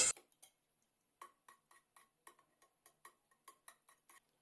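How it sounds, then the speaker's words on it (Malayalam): A ladle clinking and scraping against a pot while cooked dal is mixed and mashed for parippu curry, a string of quick irregular metallic taps close by, alone. "ഒരു തവി വെച്ച് ഇതൊന്ന് മിക്സ് ചെയ്ത് കൊടുക്കാം"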